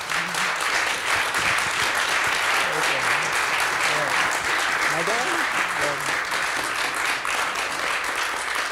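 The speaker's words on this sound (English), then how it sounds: "So that's a big round of applause for Joe Cady." Applause from an audience at an online tutorial event, a continuous wash of clapping at steady loudness with faint speech-like tones weaving underneath.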